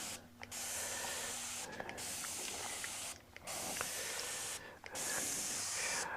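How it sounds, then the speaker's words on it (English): A sprayer hissing steadily in long continuous bursts, four stretches of broad, even spray noise, each broken by a brief near-silent gap, close and loud without speech. "the sprayer sprays continuously"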